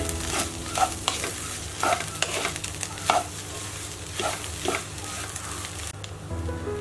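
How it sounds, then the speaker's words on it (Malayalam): A brinjal stir fry sizzles in a pan while it is stirred, with a spatula scraping and clinking in repeated strokes over a constant close frying hiss and no talk. "നമുക്കൊന്ന് ഇളക്കി കൊടുക്കാം."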